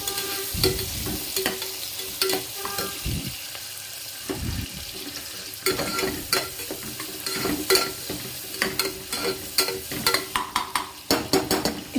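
Ingredients sautéing in a pan before ginger-garlic paste goes in, with a steady sizzle under repeated scraping and stirring strokes that come in bursts, close and moderately loud, no voices.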